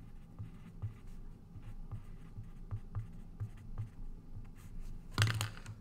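A blunt pencil scratches across paper in short strokes and scribbles during a trigonometry calculation, quiet and close, with a louder rustle of paper near the end.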